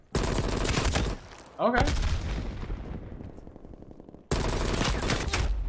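Gunfire from Call of Duty Black Ops Cold War, dense sustained bursts of shots, loud and close, broken by a short gap and a falling whoosh-like sweep before firing resumes; a brief spoken word comes through.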